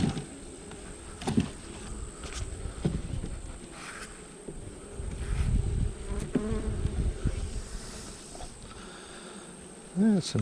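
Honey bees buzzing during a hive inspection of a newly installed swarm, a dense continuous drone with individual bees whizzing past the microphone, some close and loud.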